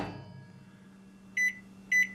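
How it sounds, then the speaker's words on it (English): A microwave oven running quietly with a low hum, then two loud electronic beeps in quick succession near the end. "And back in the microwave."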